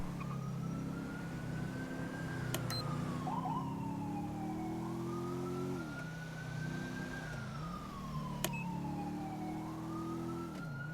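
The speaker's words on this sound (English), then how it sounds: "It's a AI siren you are hearing." An AI emergency siren wails in a FiveM GTA roleplay game, rising and falling in long slow sweeps, loud and steady under engine rumble, with a couple of sharp clicks.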